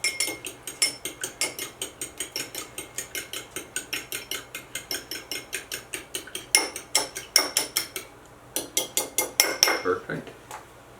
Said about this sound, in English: I always like to beat my egg a little bit before I put it in the stuffing mix.